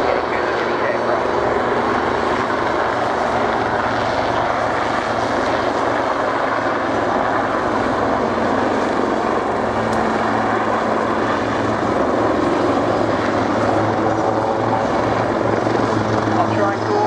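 Helicopters hovering at the Yeovilton air show, a loud, steady rotor and engine roar filling the whole stretch, with a commentator's voice over it.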